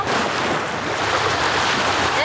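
Southern Ocean surf breaking on the shore at Melbourne, a steady loud wash of waves with heavy wind buffeting the microphone throughout.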